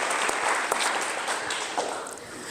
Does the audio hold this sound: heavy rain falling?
no